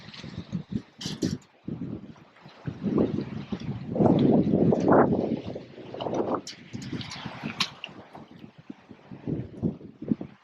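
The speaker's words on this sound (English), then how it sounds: "I can't describe to you how windy it is right now." Strong gusting wind on a shoreline buffets the microphone in rough, uneven surges, with a low rumble of rushing air that swells and fades throughout.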